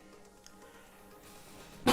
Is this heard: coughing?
yes